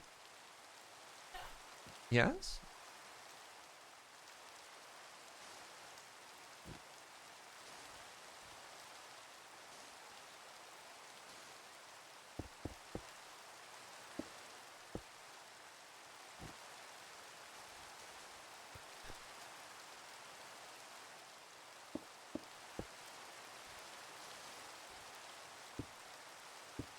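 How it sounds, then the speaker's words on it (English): Steady rain falls in the block-building game Minecraft as a soft, even hiss throughout, with faint scattered clicks and a brief louder noise early on. A voice speaks once. "Ah, the rain."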